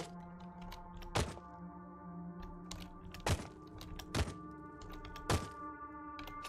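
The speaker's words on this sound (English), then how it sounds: "Oh, is it shooting both guns?" Guns fire in the Caves of Qud video game, giving four dull, punchy thunks spaced about a second apart over a quiet electronic music bed.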